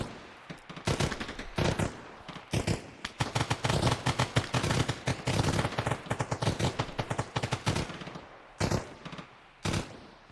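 Rapid automatic gunfire from the player's weapon in Arma Reforger rattles out in repeated bursts of sharp shots, with short pauses between volleys and a few isolated shots near the end.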